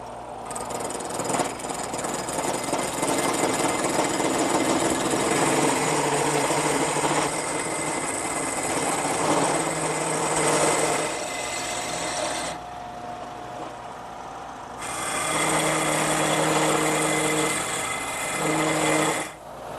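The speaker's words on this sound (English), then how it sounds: "I use the top, which is a nylon follower, to go along my template, and the bottom, which is a cutter, to remove the stock" A duplicating carver with a nylon follower tracing a template while its cutter removes wood stock for a candle stand, a steady high-pitched motor whine with rasping cutting that drops briefly and resumes, loud and close.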